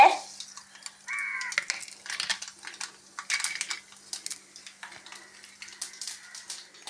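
Mustard seeds splutter and crackle in hot oil in a kitchen, a rapid scatter of light popping ticks close by, with a brief squeaky scrape early on.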